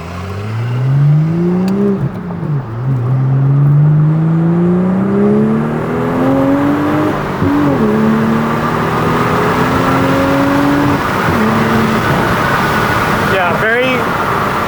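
Toyota Supra A91-MT in C U Later Gray accelerates through the gears with the air conditioning off, its engine note climbing and dropping at each shift under a steady rush of wind noise, heard from inside the cabin.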